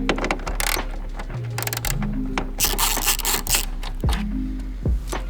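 Bolts come out of the front of a Ford Next-Gen Ranger Raptor. Close ratcheting clicks and metallic rubbing come in uneven bursts, with a few sharp knocks near the end and no voices.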